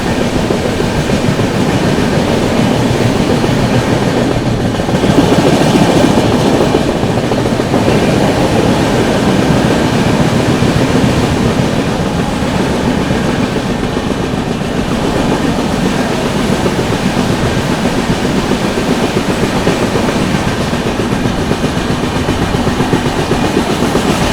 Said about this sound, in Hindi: यार रफ्तार बनाई है भाई गाड़ी ने।